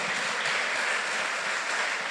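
Applause from a church congregation during a sermon, a steady dense wash of clapping that holds evenly throughout with no voices over it.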